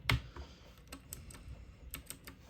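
Someone types on a computer keyboard, a sparse run of close, sharp key clicks at an uneven pace, with a louder strike at the start and quiet pauses between taps.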